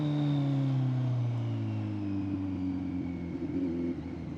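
A Kawasaki Z900 superbike weaves through Bangalore city traffic, its engine giving a close, smooth droning hum with steady tones that dip slightly as the throttle eases off.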